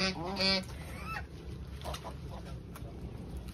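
A couple of loud nasal honks from a goose at the start as geese eat banana leaves, then quieter farmyard sounds and faint bird calls in the background.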